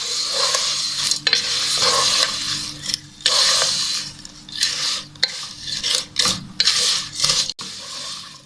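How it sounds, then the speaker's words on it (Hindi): Vermicelli (sevaiyan) frying in a pan for sheer khurma, with a bright sizzle and repeated scraping and stirring of a utensil against the pan in irregular bursts, close and fairly loud, with no talking. "इसके बाद हम इसमें डाल देते हैं सिवैयाँ, और सिवैयों को थोड़ा सा फ्राई कर लेते हैं।"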